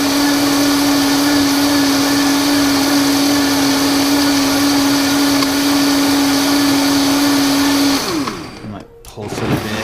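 A Vitamix blender whirs loud and close with a steady high-pitched motor whine as it grinds banana and avocado into a smoothie, then cuts off abruptly near the end.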